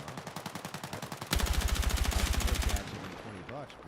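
Rapid automatic gunfire in Battlefield 6, with a steady rhythmic stream of shots that gets louder and denser midway before cutting off, followed by faint game sounds.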